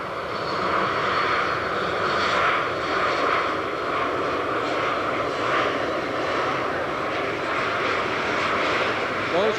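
QSRA quiet short-haul research aircraft passing at 55 knots during a 1986 airshow flyby, a loud steady engine roar with a broad whooshing wash holding for the whole stretch.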